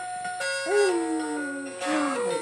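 A small dog lets out a drawn-out, wavering howl that rises and falls, then a second shorter whining howl, with no talking.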